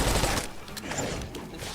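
Rapid automatic gunfire bursts from a gun in the Call of Duty video game, close and loud, firing in dense volleys for under two seconds.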